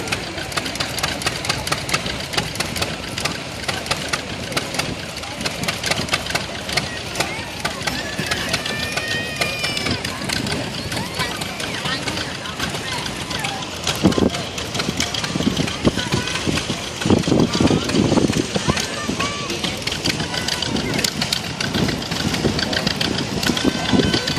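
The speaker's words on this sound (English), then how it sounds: "we got a little one-cylinder engine here" A small single-cylinder engine chugs steadily nearby under load at a power parade, with a rapid knocking rhythm, running throughout under occasional talk.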